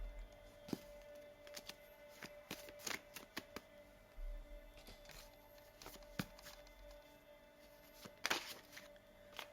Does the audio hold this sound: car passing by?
no